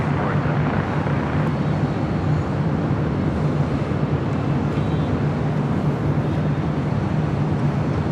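A Delta airliner landing on runway 24 right at Los Angeles International Airport, heard as a loud, steady roar of engines and rushing air that stays constant throughout.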